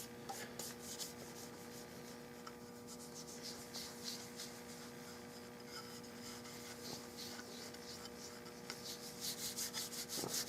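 A hand rubs finish into the stock of a 1906 Winchester gallery gun with a soft, steady, close friction rustle that swells slightly in rhythmic strokes over a faint constant hum.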